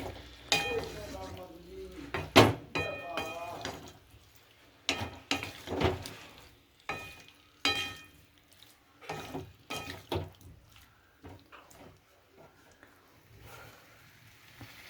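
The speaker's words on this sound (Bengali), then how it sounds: "একটু আস্তে আস্তে ধীরে ধীরেভাবে কষিয়ে নিচ্ছি" Spices or ingredients being slowly stir-fried in a pan for a vegetarian dish, with intermittent scraping and stirring strokes, soft sizzling and occasional clinks of utensil against the pan, close and fairly quiet.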